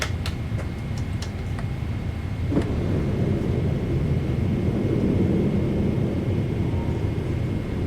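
Steady cockpit rumble aboard a British Airways 777 on approach to Chicago, with a dull thump and a swelling roar as the landing gear extends, holding loud and constant to the end.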